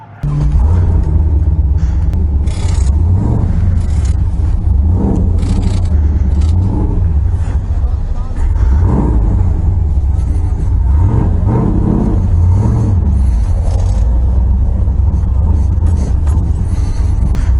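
A 416 cubic inch LS3-powered WS6 Trans Am drift car drones with a loud, steady engine rumble throughout, its pitch rising and falling as the throttle is worked through repeated revs and shifts.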